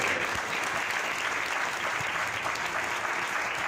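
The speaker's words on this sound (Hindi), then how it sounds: "ताली बजा रहे उसके लिए" Church congregation clapping during a sermon, a dense, steady round of applause that carries on unbroken from start to finish, with no voices rising above it.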